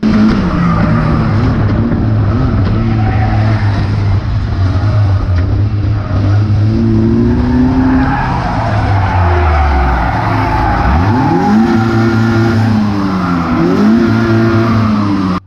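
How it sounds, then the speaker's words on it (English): Race car at a Cowdenbeath Racewall race, its engine spluttering and losing power on the pit bend: loud, close engine noise with uneven, wavering revs and sliding pitch, plus tyre noise, alone without talk. "my car starts spluttering and it loses power"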